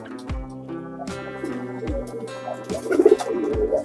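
Pigeons coo in a steady, close rhythm of soft, throaty calls, repeating several times in short succession and growing a little busier toward the end, with no talk over them.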